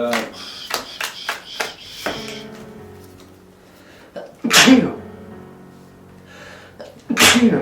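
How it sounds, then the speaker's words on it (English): Two loud, sharp sneezes burst out a few seconds apart, following a series of light clicks and taps at the start. "I'm sneezing"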